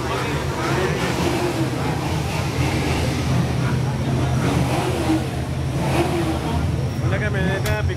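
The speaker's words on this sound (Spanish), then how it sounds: "Miren el motor del Corvette. Qué belleza. Todo perfectamente bien sincronizado." A Chevrolet Corvette's engine idles steadily at a muscle car show, a constant low rumble running throughout with crowd chatter and voices layered over it.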